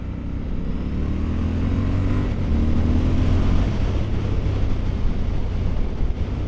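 A Triumph Scrambler 1200 motorcycle accelerates with a loud, rising engine drone, heard from the rider's position under heavy rushing wind noise that swells and then settles to a steady roar.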